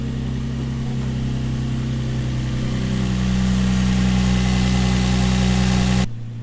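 A Nissan 350Z fitted with a lightweight crank pulley idles steadily close by, a low, even engine hum holding for about six seconds before cutting off abruptly; no starter crank is evident.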